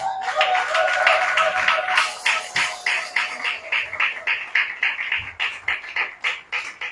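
A church congregation at a Sunday service claps, starting as dense applause, then settling into rhythmic, steady clapping in unison that fades somewhat toward the end.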